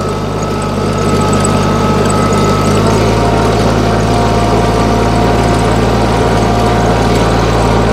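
A tractor drives along potato rows while planting, its engine droning steadily and loudly with a low, constant hum close by throughout.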